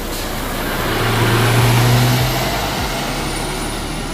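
A Scania bus rolls into Pekanbaru bus terminal, its engine a steady loud rumble with a low drone that rises and eases off, heard close with no talk.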